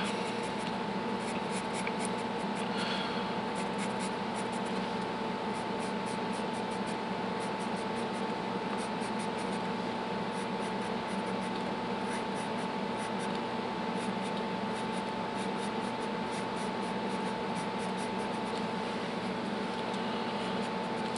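A pencil sketches flower petals on paper in quick, repeated scratchy strokes, close by, over a steady background hiss from the room.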